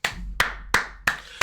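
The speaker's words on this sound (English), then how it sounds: "Everybody give Paul George a round of applause." Slow, deliberate hand claps for Paul George, five sharp close claps spaced about a third of a second apart with short ringing decay after each, no talking.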